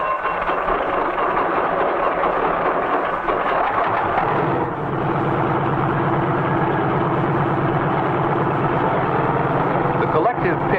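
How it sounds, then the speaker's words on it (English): An old helicopter engine turns over steadily after its self-starter fires, a dense, continuous roar with throbbing mechanical texture that holds at a constant loud level throughout the warm-up. "A self-starter starts the engine, and after a careful warm-up,"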